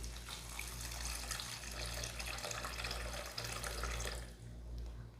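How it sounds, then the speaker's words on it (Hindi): Half a litre of water poured into a pot of cooking mutton for a dhuwan dahi gosht recipe, a steady close rushing splash that stays even for several seconds before easing off at the end. "अब इसमें ½ लीटर पानी डालेंगे"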